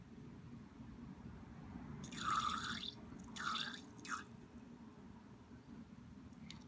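Water drawn into and squeezed out of a Kuretake Sumi brush pen ink cartridge, a few soft wet gurgling squirts in two or three bursts over a low steady background hum.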